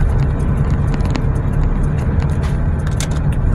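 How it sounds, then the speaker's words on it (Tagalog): Heavy road traffic on Osmeña Highway southbound at night, a dense, steady roar of car engines and tires close by, with passing vehicles swelling briefly above the constant rumble. "Napaka-traffic ang Osmeña Highway southbound."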